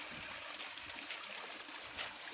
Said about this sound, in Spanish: Una reguera aquí en la pared subterránea.